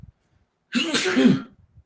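A single sharp sneeze bursts out close by during a podcast conversation, lasting under a second, with quiet room tone before and after.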